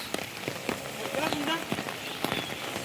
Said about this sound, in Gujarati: માહોલ જોરદાર વરસાદ બારિશ